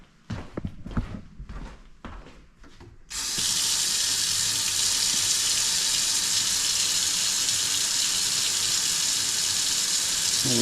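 Water gushes steadily from an interior faucet during a home water service repair, a loud constant rush that starts abruptly after a few seconds of clattering handling noises and continues unbroken to the end.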